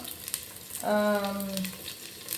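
Onions go into a hot pan for a Tamil chicken curry (kozhi kulambu), giving a faint, soft sizzle. A short tonal hum briefly rises above the frying.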